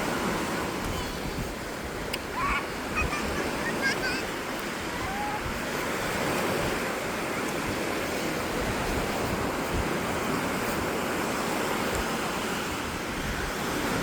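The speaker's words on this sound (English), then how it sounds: "Just listening to the waves come up and down the shore." Ocean waves wash steadily onto the rocky shore at Pan's Rocks in Ballycastle on a sunny day, a continuous broad surf roar mixed with wind buffeting the microphone.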